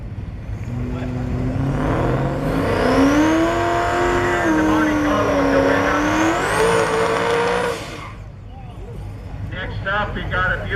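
A drag car launches off the line on its first pass, its engine roaring loud and rising in pitch for several seconds before cutting off abruptly, followed by a fainter fading drone.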